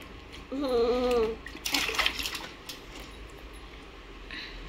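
A baby splashes bathwater in a short burst of close, bright splatters, preceded by a voice speaking and followed by faint lapping water.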